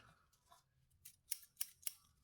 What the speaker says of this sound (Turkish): Altın makas.